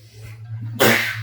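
One sharp, explosive sneeze cuts through a low steady hum, preceded by a brief breathy intake.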